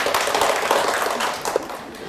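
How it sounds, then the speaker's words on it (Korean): Students in a lecture hall clapping together for a few seconds, a dense, even patter of hand claps close by that tails off near the end. "네, 박수 한번 쳐주시고요."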